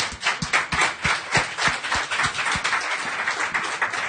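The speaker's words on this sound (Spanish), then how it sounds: "Dale un aplauso a Jaime" A class applauds for Jaime during a discipleship class on spiritual warfare at a church, with steady rhythmic clapping from a group, fairly close, continuing throughout without talk.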